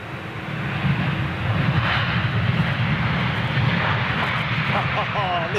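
A large jet approaching at Gatwick Airport rumbles as a steady, broad engine roar that swells slightly and holds, with a person talking over it close by.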